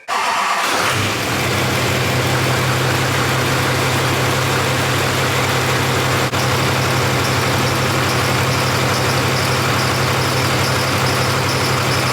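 A Duramax diesel truck engine starts abruptly and settles into a loud, steady low idle, a constant rumbling drone that runs on without change.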